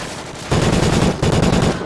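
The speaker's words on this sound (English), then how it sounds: "He shot me through the fucking tree." Automatic gunfire in Call of Duty: Ghosts multiplayer, a close, loud rapid burst of shots with a short pause partway through, no talking.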